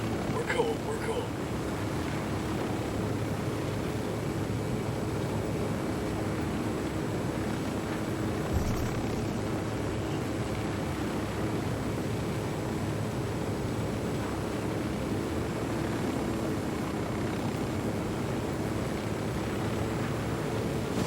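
An aircraft flight in Ghost Recon Wildlands gives a steady, moderate rushing drone of engine and wind that runs unbroken throughout.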